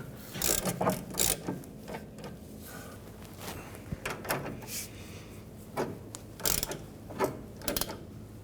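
A ratchet clicks in short, quiet bursts as it tightens an inner tie rod removal tool on a 2017-2020 Hyundai Elantra, with pauses and light metallic clanks between the runs of clicks.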